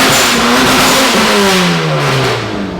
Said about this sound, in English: You hear that rumble of those big camshafts?